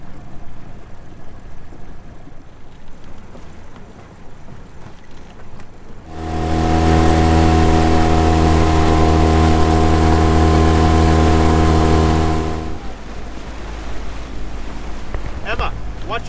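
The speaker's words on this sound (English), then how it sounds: "today we're going to take the dinghy" A dinghy's outboard motor drones loud and steady for about six seconds, a strong humming engine tone over wind and water noise that fades back to the open-water background.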